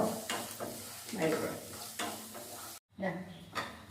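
Green chillies sautéing in a pan for chilli idli, with the spatula scraping and stirring over a soft, steady sizzle; a brief silent break interrupts the clip before the stirring resumes.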